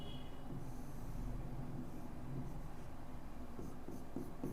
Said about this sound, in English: Let me draw the diagram for you.